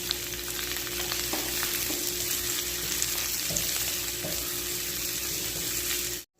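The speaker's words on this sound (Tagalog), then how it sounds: "Pagkatapos nga natin i-golden brown yung ating garlic, sulog natin yung ating sibuyas." Chopped onions sizzle in a hot pan with golden-browned garlic, a steady frying hiss with occasional soft stirring scrapes, close and continuous until it cuts off at the end.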